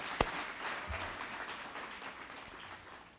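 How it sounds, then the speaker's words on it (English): Audience at a small business award presentation in Columbus, Ohio, applauding with a steady spread of clapping that gradually tapers, with a sharp close thump early on. "round of applause for that"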